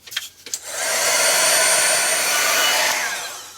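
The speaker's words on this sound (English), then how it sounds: "I'll hit that with the heat gun, just real quick." A heat gun blasts air across a painted acrylic art journal page, a steady loud whooshing roar that swells in after a few soft handling taps, holds evenly, then begins to taper.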